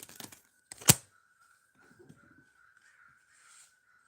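A crow gives one sharp, loud caw near the start, after some faint scuffling, and then fainter rustling and a steady thin tone follow in otherwise quiet surroundings.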